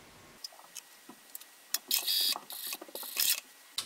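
A sewing machine stitches along a T-shirt neckline in short, loud mechanical bursts with brief pauses, after quiet handling clicks, with no talking.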